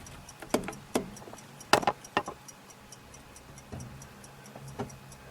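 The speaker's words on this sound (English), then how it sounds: "You can hear that clock ticking." The dashboard clock of a 1950 Ford Custom Deluxe Club Coupe ticks in a faint, steady, rapid rhythm. Louder clicks and clunks from inside the car break in irregularly, with no talk.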